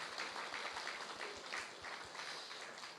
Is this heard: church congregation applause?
yes